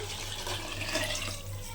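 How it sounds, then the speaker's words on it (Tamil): Water is poured into a pot of mushroom biryani, a quiet, steady splashing and trickle running for a couple of seconds against a low background hum. "இப்போ நாம் இந்த ஆறு டம்ளர் தண்ணி நம்ம அப்படியே சேர்த்துக்கலாம்"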